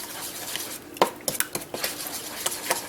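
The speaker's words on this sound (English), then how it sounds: "you're going to mix all of this, your wet ingredients, up" A utensil stirring wet ingredients, including eggs, in a bowl for zucchini bread batter, with a few quick clinks and scrapes against the bowl over a soft background hiss, close and brief, no talking.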